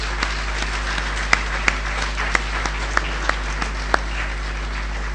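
Applause from an audience at a gathering, sparse and thin with a few sharper individual claps standing out over a steady low hum, lasting several seconds without any voices.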